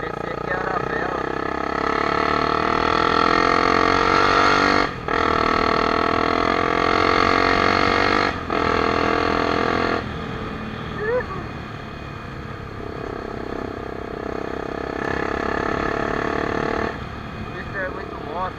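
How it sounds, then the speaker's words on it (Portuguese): A motorcycle with a straight-pipe exhaust runs steadily with a loud, buzzing harmonic drone. There are brief dips near five and eight seconds, and the tone shifts and softens after ten seconds. "mas você anda com esse escape só o cano, não dá problema com a polícia?"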